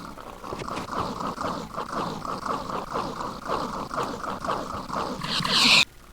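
Rapid snorting grunts from a pig suffocating in Minecraft repeat in quick bursts, ending with a sharp, high shriek just before it cuts off.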